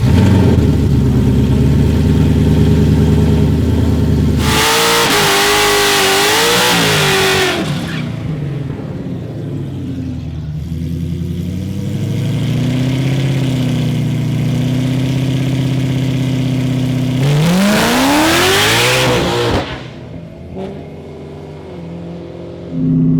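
A loud drag racing car engine roars at launch down the strip, revving hard through rising gear pulls, easing off mid-run, then surging again before cutting out.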